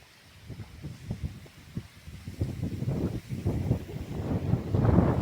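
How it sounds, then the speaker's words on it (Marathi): Strong wind gusts across an open farm field in the Konkan countryside where fertilizer is being spread, buffeting the microphone in low rumbling bursts that grow louder and more constant toward the end. "वाराचा आवाज खूप येतोय."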